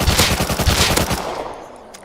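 MP5 submachine gun with a holo sight firing in the survival game Rust, a rapid automatic burst of evenly spaced loud shots lasting about a second, then a decaying echo tail.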